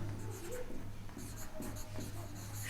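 An equation is written out by hand in a maths lesson, with close, faint pen scratches in short strokes over a low steady hum.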